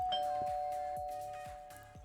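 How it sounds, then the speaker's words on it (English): A doorbell rings in a home, a clear repeating chime with a sustained tone under it, about five regular strikes that ring out one after another. "no need to use the doorbell"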